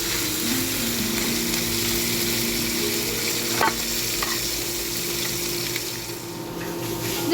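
Katla fish head fries in hot oil, a loud, continuous close sizzle with spatters, and a spatula scrapes and stirs in the pan now and then. No one speaks.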